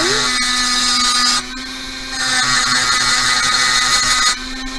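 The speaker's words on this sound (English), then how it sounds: "I'm just gonna grab my ball burr" A rotary tool with a ball burr grinding down a metal pendant, giving a continuous high-pitched whine that dips briefly in level and then resumes, close and loud throughout.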